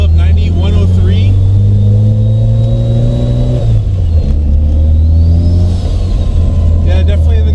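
From inside the cabin, a Mazda RX7 FC3S rotary engine with a custom exhaust revs up hard in one long, very loud climb, then drops and rises again with a droning, buzzy tone. A voice talks faintly under it.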